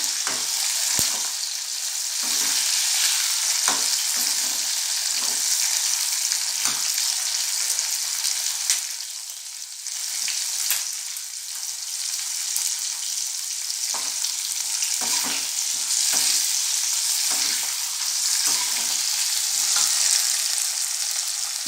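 Onions sauté with chopped tomatoes and green chillies in a hot pan for a mango fish curry, giving a steady bright sizzle broken by repeated scraping stirs and spoon knocks.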